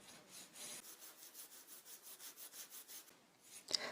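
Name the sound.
filing a fingernail with a crystal nail file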